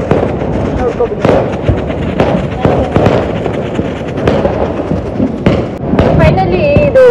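Diwali firecrackers and fireworks explode in repeated sharp bangs and crackles at irregular intervals, with a whistling rocket near the end and voices chatting in between.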